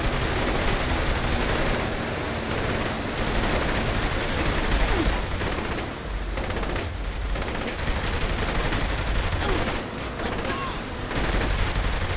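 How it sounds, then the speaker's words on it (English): Dense, continuous gunfire from the video game Saints Row the Third, with rapid overlapping shots and bursts like a firefight at close range, filling the whole stretch with little pause while faint voices sit underneath. "Shots have me pinned."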